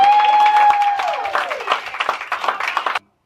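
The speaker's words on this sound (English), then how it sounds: "let's give her a round of applause, y'all." Audience clapping at a podcasting event, a scattered round of applause that begins under a fading tone, builds in uneven claps and cuts off abruptly near the end.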